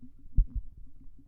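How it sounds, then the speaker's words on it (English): A slow heartbeat sound effect gives one muffled, low double thump, close and alone over a faint low hum. "Your heartbeat has already slowed significantly."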